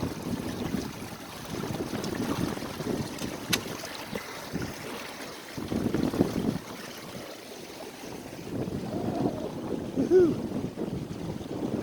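Strong wind of about 20 knots rushes past a small sailboat in continuous gusty waves, with low buffeting on the microphone and water moving against the hull.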